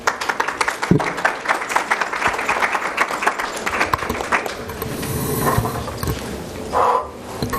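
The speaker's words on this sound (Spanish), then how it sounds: "La recibimos con un aplauso" Audience applause welcoming a speaker at a morning session of a community psychology conference day, steady clapping throughout with scattered louder claps and a slight swell near the end.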